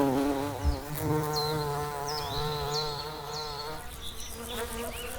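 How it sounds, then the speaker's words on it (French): Wild bees at early spring flowers at winter's end, a steady close buzz with wavering pitch running throughout, with faint bird chirps in the background. "Les abeilles les plus précoces de l'année s'activent dès la fin de l'hiver, quand les premières fleurs apparaissent."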